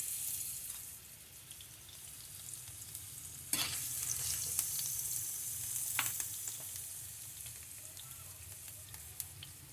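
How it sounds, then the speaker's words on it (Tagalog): Garlic sautéing in a pan for chicken molokhia, a steady soft sizzle with occasional clinks and stirring scrapes, faint and close. "Lagyan natin ng bawang. Gigisa ko tayo ng bawang."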